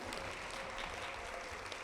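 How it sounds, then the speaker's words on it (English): Steady applause from a crowd, dense and continuous clapping filling the whole moment without any voices. "Give yourselves a round of applause."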